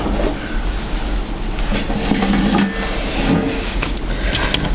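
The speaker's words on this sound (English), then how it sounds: "So let me go ahead and sew the drunkard's path for you." A sewing machine runs steadily while stitching quilt pieces for a drunkard's path block, giving a continuous close rattling drone with fine clicking and no talking.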